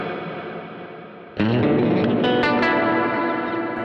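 Electric guitar played through a Lovepedal Reverb Deluxe pedal set for heavy reverb and long decay, a faint trail giving way to a sudden loud strummed chord and a few picked notes that ring out and wash into a sustained reverberant tail.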